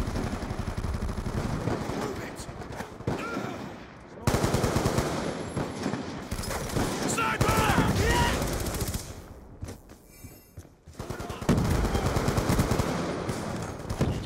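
Rapid automatic gunfire from the video game Call of Duty Black Ops 2 rattles in loud, dense bursts with brief pauses between volleys. A voice is faintly audible in places.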